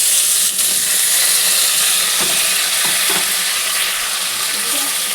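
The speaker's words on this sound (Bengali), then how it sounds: "দিয়ে আমি আগে আলু পটলটা ভালো করে ভেজে নেব" Potatoes and pointed gourd fry in hot oil with cumin, giving a loud, steady sizzle that runs the whole time, with a few faint stirring knocks and no voices.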